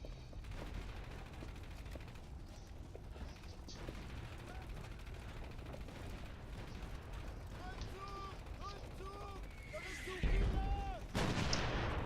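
88 guns fire in the World War II strategy game Company of Heroes, with dull battlefield booms and rumbling under clanking, ratcheting mechanical sounds, and a heavier blast near the end.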